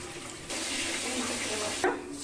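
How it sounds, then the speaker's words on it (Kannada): Water runs from a tap while rice is rinsed in a kitchen, a steady rushing flow that starts abruptly and continues, ending with a brief splash near the close. "ಅಕ್ಕಿಯನ್ನು ಈಗ ಚೆನ್ನಾಗಿ 2-3 ನೀರಿನಿಂದ ತೊಳೆದ್ಕೊಡೋಣ"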